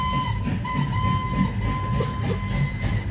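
A train runs on rails in a light show soundtrack, giving a steady low rumble with a faint tonal whine over it, continuous and moderately loud.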